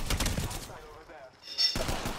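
Rapid bursts of R-301 rifle fire in Apex Legends, a loud stuttering volley at the start followed by a brief lull and another sharp burst near the end, with game effects in between.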